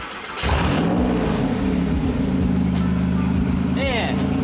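A GT40-inspired supercar engine starts and idles roughly while running rich. The steady, loud rumble rises and falls with several revs, and people talk over it.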